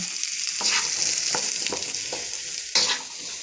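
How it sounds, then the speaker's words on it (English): Vegetables stir-frying in a wok, with a loud continuous sizzle close by, broken by a few sharp scrapes and tosses of a spatula against the metal. "put it right back into the same wok, and you're going to cook these vegetables down"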